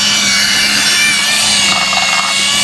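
A loud, steady high-pitched whir of a power drill polishing a wheel rim, continuous and close without a break.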